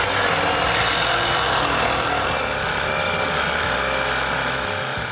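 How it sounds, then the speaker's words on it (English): A sawzall cuts loose rusted parts on a 1965 Ford F100 farm truck, a loud, steady, continuous buzzing roar that holds nearly unchanged throughout with no talking. "Trying to see if I can get a sawzall in there somewhere."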